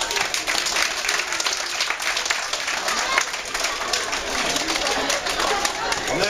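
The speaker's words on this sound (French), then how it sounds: "on les félicite, on peut les applaudir." Parents and families at a handball club event in June applaud the players, dense continuous clapping from a crowd mixed with lively chatter and voices all through.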